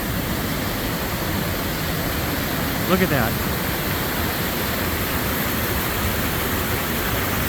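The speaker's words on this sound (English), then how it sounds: "This is a cool waterfall." Liberty Falls roars steadily beside a short hiking trail along Highway 10 toward Chitina, a loud broadband rush that fills the whole clip while a voice speaks briefly over it.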